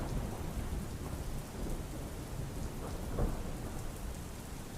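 Heavy rain pours steadily in a Gujarat downpour, a dense continuous wash with low rumbles of thunder swelling beneath it, fairly faint and with no voices.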